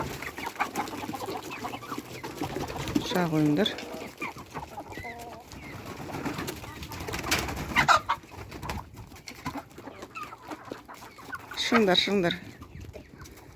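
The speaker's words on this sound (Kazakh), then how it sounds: "Таңертең тауықтарымды сыртқа шығарып жатырмын." More than forty hens are let out of their coop in the morning, and the flock clucks and squawks close by in bursts while a person speaks briefly among them.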